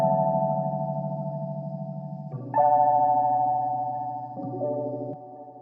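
A boom bap loop pitched up one semitone and run through effects in FL Studio plays alone: sustained tonal chords with a low bass layer, shifting at a few clear changes, steady and loud without any voice.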